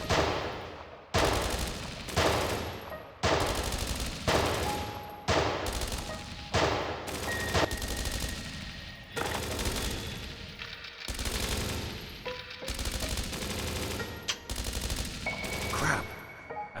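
Video game gunfire in repeated loud bursts, about a dozen rapid volleys separated by short gaps, close and harsh, with no talk over them.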